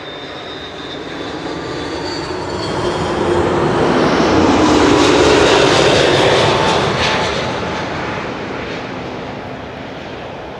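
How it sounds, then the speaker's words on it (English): KLM Airbus A330-200 airliner landing at Amsterdam Schiphol after a flight from Toronto, a rumbling jet roar that builds as thrust reversers engage, holds loud for several seconds, then eases off. "This is KLM flight 696 arriving from Toronto, Canada. A330-200."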